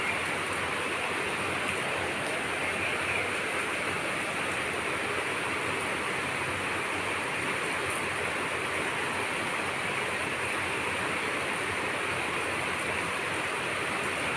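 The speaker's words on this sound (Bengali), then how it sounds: "সকাল সকাল বৃষ্টি শুরু হয়ে গেছে" Morning rain falls in a steady, even hiss that never changes, with no voices.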